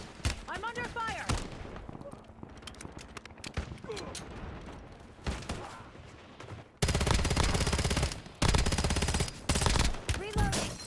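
Rapid bursts of automatic gunfire from the video game Black Ops 7, loud and dense, cutting in with heavy sustained volleys in the second half while game voice lines and a person's talk surface between shots.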